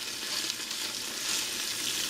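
Beef pieces browning in a stew pot, a steady, close sizzle with a bright crackling hiss running unbroken for the whole stretch, no voices over it.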